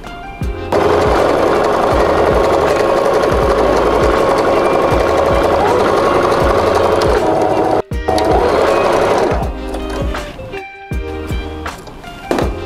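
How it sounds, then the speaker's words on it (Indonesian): Sewing machine stitching a half-centimetre seam in cotton culottes, a loud steady motor whir with rapid needle clatter running continuously, pausing briefly near the end before short stop-start bursts. "kita jahit kembali. Sebesar setengah sentimeter."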